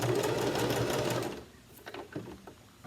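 A sewing machine back stitches a t-shirt seam in a quick, steady whirring run, then stops, leaving only faint clicks and handling noise.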